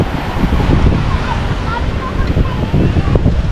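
Rough, choppy sea off the Philippine coast where a sunken boat is being salvaged, with a steady churning wash of waves and wind buffeting the microphone throughout, fairly loud and continuous.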